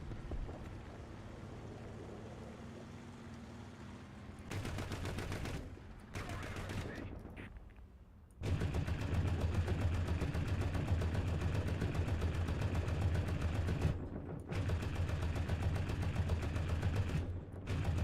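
Tank cannon and machine-gun fire in War Thunder, bursts of heavy shots and rattling gunfire in blocks with short gaps, loud and close against rumbling engine background.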